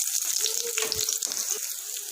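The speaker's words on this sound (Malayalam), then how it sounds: "സോ എണ്ണ ഒഴിച്ചു കൊടുത്തു. കുറച്ച് കടുക് ഇട്ട് കൊടുക്കാം." Mustard seeds sizzle in hot oil while starting kothu porotta from leftovers, a bright, close frying hiss that holds steady through a brief moment, with a few soft clinks and no voices.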